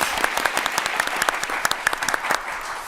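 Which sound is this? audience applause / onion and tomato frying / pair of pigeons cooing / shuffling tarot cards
audience applause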